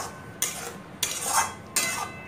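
Paneer being stirred in a pan with a utensil: three separate scraping, clinking strokes, each about half a second apart, close and moderately loud, with no talk.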